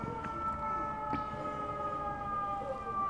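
Emergency sirens sound close by, steady tones holding over a continuous street background, with a brief swell partway through and no talk.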